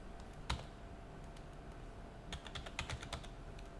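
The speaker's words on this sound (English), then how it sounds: "Let's type our command in here." A command is typed on a computer keyboard during a Linux drive-sanitization lab: a few quiet, scattered key clicks, then a quick burst of close keystrokes over a soft background hum.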